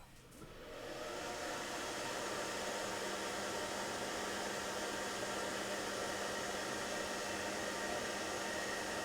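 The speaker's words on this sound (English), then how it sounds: "Close the door so Mossy can't hear this hairdryer." A handheld hairdryer switches on and quickly ramps up to a steady, loud, whooshing airflow with a faint motor hum underneath, running continuously and close by with no talking.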